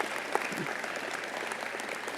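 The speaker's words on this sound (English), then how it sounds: "so give him a round of applause" Civic audience at a city's annual State of the City address giving a steady, sustained round of applause, an even wash of many hands clapping at moderate distance with no talk over it.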